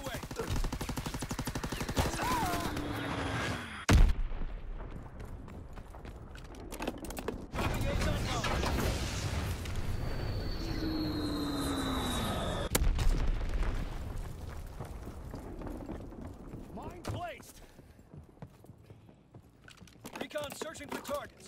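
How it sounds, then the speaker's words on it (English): Azon bomb mission in Call of Duty WWII multiplayer: heavy booming explosions and bursts of gunfire with whooshing aircraft sweeps, loud and layered over game voices and radio chatter. "Recon bombing mission ready. Azon bomb mission underway."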